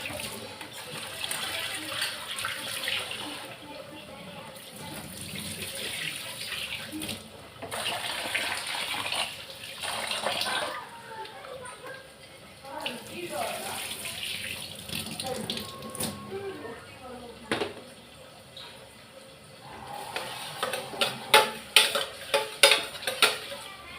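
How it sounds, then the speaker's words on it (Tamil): Soaked rice being rinsed under a running kitchen tap, water splashing steadily with clinks of a pot and utensils, sharper knocks near the end, while a voice talks intermittently. "அரிசியை கழுவிடலாம், ஊற வச்ச அரிசியை"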